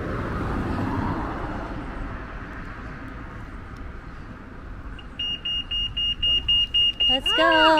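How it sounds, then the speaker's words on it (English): Pedestrian crossing signal at a UK street crossing beeping in a steady run of short, loud pulses that start partway through, over traffic noise with people talking nearby. "To wait for the beep beep."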